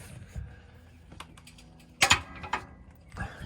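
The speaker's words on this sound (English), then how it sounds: "So as you could probably hear, I just smacked the frame, which hopefully means we loosened it." A few sharp metallic smacks on the frame of a Toyota 4Runner with a 4.7 V8, struck to loosen a part in a quiet garage, one louder double hit standing out among lighter knocks.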